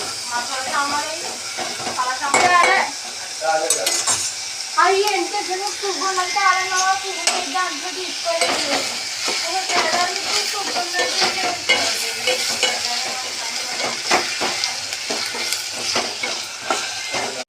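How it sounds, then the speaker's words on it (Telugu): Onions, carrots, tomato and green chili frying in a pan are stirred, giving a steady sizzle with repeated scraping strokes throughout, while a voice talks intermittently over the cooking. "ఉల్లిపాయలు, క్యారెట్లు, టమాటా, పచ్చిమిరపకాయ అన్నీ వేసుకొని కలుపుకోవాలి."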